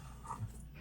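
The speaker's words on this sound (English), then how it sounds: "if you hear some whining in the background, there's a little puppy right there." A small puppy whines faintly in the background during a quiet indoor meeting, giving a couple of brief soft whimpers with low room noise throughout.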